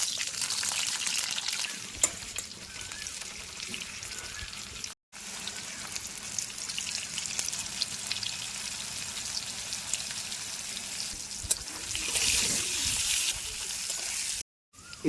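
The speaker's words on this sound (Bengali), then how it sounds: "তারপর আবার তেল দে কড়ায়, দিয়ে আগে আলুগুলো ভেজে নে একটু নুন হলুদ দিয়ে" Potatoes fry with salt and turmeric in oil in a wok, a close, steady crackling sizzle that keeps going, with two brief cut-outs and a brighter surge near the end.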